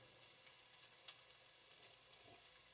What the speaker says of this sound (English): We're just letting these peppers cook a notch more.